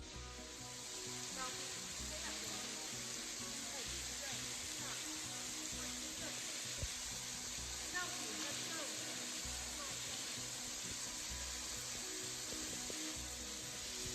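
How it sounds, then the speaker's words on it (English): Waterfall at Cantwell Cliffs on a hiking trail, a steady broadband rush of falling water that holds evenly throughout, fairly distant and unbroken. "we have a waterfall"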